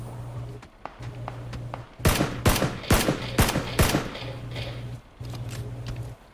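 Rapid gunfire in PUBG on Xbox One, a squad match: a cluster of loud, sharp shots fired in quick succession, ringing close over a steady background hum.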